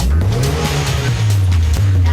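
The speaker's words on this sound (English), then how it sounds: "Rev it, let's listen to it." A freshly started car engine revved hard, loud and close, its deep pitch climbing and dipping in a sustained roar, with a voice briefly heard beneath.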